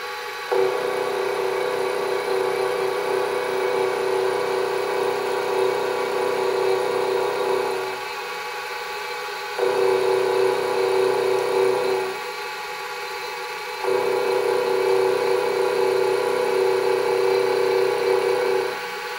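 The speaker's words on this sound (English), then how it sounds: "the Axminster SU1 universal milling machine, shown here in vertical and horizontal modes" An Axminster SU1 universal milling machine cuts a metal workpiece with a loud, steady mechanical whine that dips and returns twice as the cut changes, heard alone without talk.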